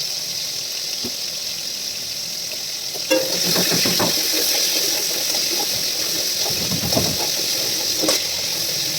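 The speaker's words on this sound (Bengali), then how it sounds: "তো ওই তেলে একটু আলু ভেজে নিলাম" Potatoes frying in oil in a home kitchen, a soft hiss at first that grows louder after a few seconds, with scraping and stirring clatter on top; no talking.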